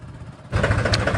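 A tractor engine kicks in halfway through and chugs loudly and steadily at close range as the tractor is pulled out of a shed.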